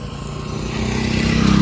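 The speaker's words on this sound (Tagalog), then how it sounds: "Habang nagmumotor kami papuntang bayan" A motorcycle rides along a road after a typhoon, its engine droning steadily and rising gradually in loudness over a short stretch.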